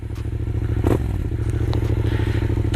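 A Yamaha MT-07 motorcycle starts, its engine idling with a rapid, throbbing rumble through an exhaust with baffle fitted, joined by a clatter and a brief scrape near the start.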